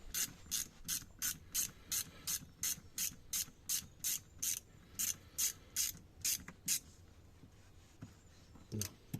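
Steady ratcheting clicks from a tool loosening a hose clamp during an oil change on a BMW, sounding in an even rhythm of about sixteen sharp bursts, close and clear, before stopping near the end.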